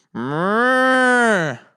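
A person's voice imitates a cow, giving one long, loud, sustained moo about a second and a half long that swells and then fades, heard close and alone.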